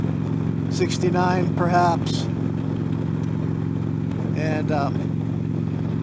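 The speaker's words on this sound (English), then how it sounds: "I'm in sixth gear, but I do hear the engine noise with the full-faced helmet on" A motorcycle engine drones steadily in sixth gear at highway speed, a constant low hum heard from inside a full-face helmet while a rider talks over it.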